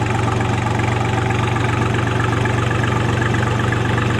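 A tractor engine idles just after starting, a loud, close, steady low rumble with an even mechanical pulse and slight knock throughout, alone with no talking.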